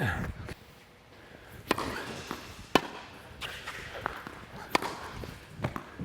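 Tennis rackets strike the ball in an NTRP 4.5 match, with several sharp hits spaced irregularly across the rally, some near and some farther off, over faint court ambience and light footsteps.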